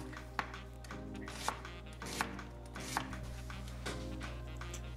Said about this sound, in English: Then we're gonna start on our onion. Bop, bop, bop. Just a quick chop.